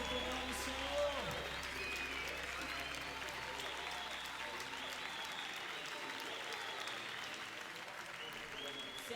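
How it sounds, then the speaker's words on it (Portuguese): Quiet applause from a church worship crowd, steady clapping under lingering music, with a voice faintly heard over it. "Se essa salva de palmas é para Jesus, bata porque Ele merece."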